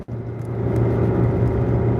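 A car drives in traffic beside a Honda CR-V, with a steady loud engine and road rumble from close inside the cabin after a brief sharp start.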